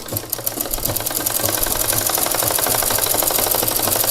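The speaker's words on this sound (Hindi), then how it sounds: "और इधर को घुमा के सिलना है और एक दूसरी बार उधर से मारना है" Sewing machine running steadily while stitching the hem of a petticoat, a fast, continuous mechanical rattle of needle strokes, close and loud throughout with no talking.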